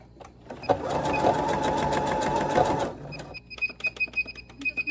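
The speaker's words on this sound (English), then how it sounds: "I'm just making the stitch length longer so it doesn't take so long to sew" A sewing machine runs in one steady burst of rapid stitching for about two seconds while sewing a jacket, then stops, followed by a few lighter mechanical clicks and taps.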